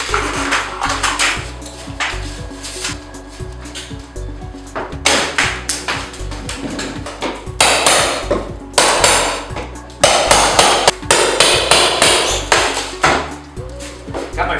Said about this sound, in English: Got my favorite hammer today, my rocket hammer.